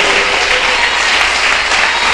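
A church congregation claps together at an evangelist's urging, a short burst of loud, dense, continuous applause from many people that holds level from start to finish.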